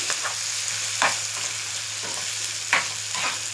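Mango and coconut chutney paste warms briefly in a pan, giving a soft, steady sizzle broken by a few distinct spatula scrapes, close by and moderately quiet over a low hum.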